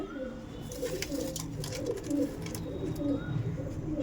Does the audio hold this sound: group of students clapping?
no